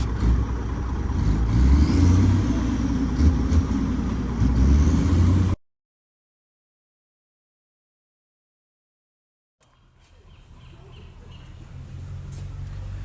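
An old, retired and worn-out Mack truck engine runs with a steady low rumble and whir, loud at first, then cut off by a stretch of silence before the idling resumes more quietly.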